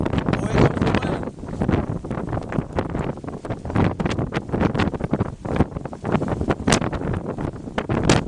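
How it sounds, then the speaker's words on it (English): Strong wind gusts hard across the microphone at the Castlepoint lighthouse, a loud, continuous buffeting roar that surges and dips throughout. "Where comes the wind?"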